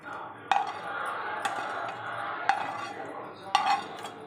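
Eggplant stirred into curd in a bowl for vankaya perugu pachadi, an eggplant yogurt chutney: a spoon gives four crisp clinks against the bowl, spaced about a second apart, over a soft, wet, mixing background.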